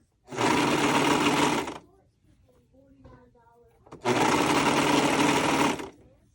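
Two loud, steady bursts of a sewing machine stitching boxer-briefs fabric, each about a second and a half long, separated by a quieter pause with a few faint soft sounds.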